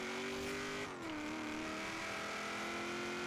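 A Subaru WRX in Forza Horizon 4 pulls hard under acceleration, its steady, buzzing engine note dipping briefly around a shift before climbing again. It runs continuously and fairly loud, with no talking over it.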